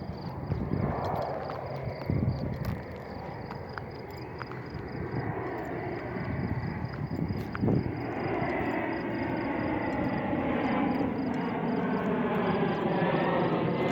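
A steady, broad airplane roar drones overhead and slowly builds, with faint outdoor ticks and insect-like chirps in the background.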